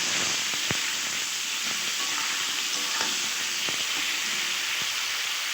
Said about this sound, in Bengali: বেগুনগুলোকে আমি ভেজে নেব